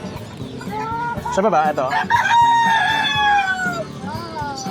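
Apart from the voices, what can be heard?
Brahma chickens clucking and crowing at a pet market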